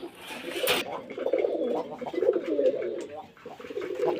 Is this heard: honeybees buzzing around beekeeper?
no